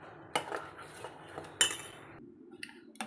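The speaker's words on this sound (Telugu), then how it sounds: "అందుకని నేనే కలిపేస్తున్నా." A spoon clinks and scrapes in a bowl as sabudana fruit custard is mixed, with a few sharp taps amid soft swishing, close and fairly quiet.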